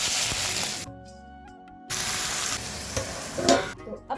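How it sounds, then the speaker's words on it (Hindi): A spice mix for pumpkin curry fries in a pan, bursts of loud hissing sizzle broken by a quieter gap, with scraping stirring knocks near the end. "अब मैं इसे फटाफट से फ्राई कर देती हूँ।"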